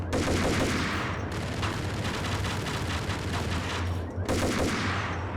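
Rapid, sustained Ingram submachine gun fire in the 2001 PC game Max Payne, a dense, loud burst that breaks off briefly at about one second and again near four seconds before resuming at close range.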